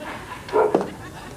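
Nero the dog gives a single short bark, a quick two-part yelp rising out of a quiet indoor room, close and fairly loud.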